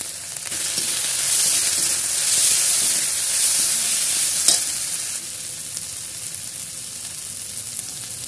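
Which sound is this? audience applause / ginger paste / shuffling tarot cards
ginger paste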